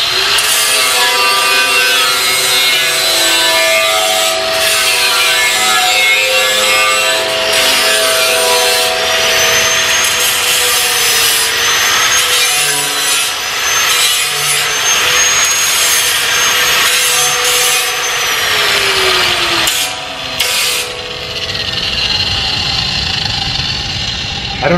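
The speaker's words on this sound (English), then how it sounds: "So we're just going to round it off with the grinder." A grinder rounds off a metal edge on a four-post car lift, a loud continuous abrasive whine and hiss held close for the whole stretch with only slight shifts in pitch.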